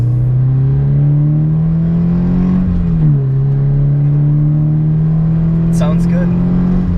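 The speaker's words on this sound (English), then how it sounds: "Quick acceleration for you guys." A Subaru BRZ sports car with an aftermarket Invidia N1 exhaust revs up with a loud, throaty exhaust note, pitch climbing steadily toward 6,000 RPM, dipping briefly at a gear change, then rising again.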